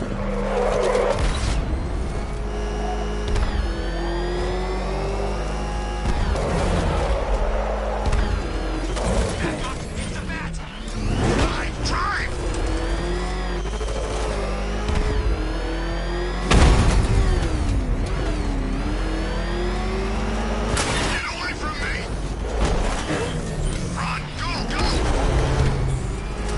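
A car driven through city streets in Batman: Arkham Knight, its engine droning and whining with changing pitch amid mechanical clatter and skids, with voices talking over parts of it.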